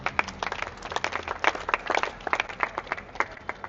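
A church congregation at a sermon bursts into lively applause, dense irregular hand claps rising and falling across the whole stretch, loud and close with no talking.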